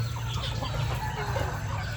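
Chickens being raised for sale, about 1.5 to 2 kilos each, cluck continuously and close by, a busy overlapping chatter over a steady low background hum.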